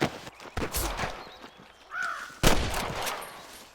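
Sharp gunfire bursts from the Western game Red Dead Redemption, with one strong crack near the middle, scattered shots around it, and a faint bird call.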